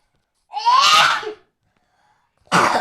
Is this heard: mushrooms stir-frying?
no